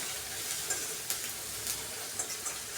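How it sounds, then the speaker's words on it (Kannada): Masala spices frying with onions in a hot pan for egg rice, a steady close sizzle with a few soft stirring scrapes and clicks, no voices. "ಮಸಾಲೆಗಳಲ್ಲಿರೋಂತಹ ಹಸಿ ಸ್ಮೆಲ್ ಕಮ್ಮಿ ಆಗೋವರೆಗೂ ಈರುಳ್ಳಿ ಜೊತೆ ಚೆನ್ನಾಗಿ ಫ್ರೈ ಮಾಡ್ಕೊಳ್ಳೋಣ"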